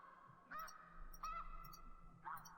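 Ducks call three times at spaced intervals in the hunting game theHunter: Classic on Whiterime Ridge, faint and distant over a low steady ambient hum.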